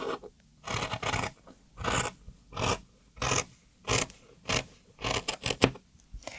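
Scissors cut through dress fabric to shape a neckline, making about a dozen crisp, rhythmic snipping strokes, close and clear with short pauses between them.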